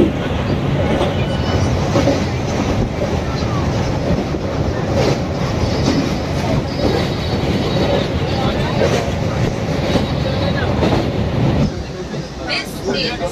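Inside a moving passenger train from Ramnagar toward Kolkata near Kanthi, a loud, steady rumble with rhythmic wheel clatter fills the carriage and eases slightly at the very end.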